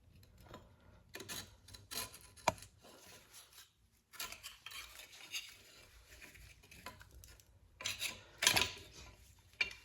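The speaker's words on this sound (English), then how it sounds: "so I am going to scrape that off" Rasping scrape of a blade working an old gasket off a disc brake part for a 1960 Chevrolet Bel Air, in several short uneven strokes, close and moderately loud with pauses between.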